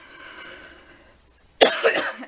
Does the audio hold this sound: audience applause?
no